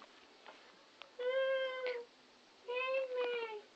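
A black cat begging for food gives two drawn-out meows close by, each about a second long, separated by a short quiet gap.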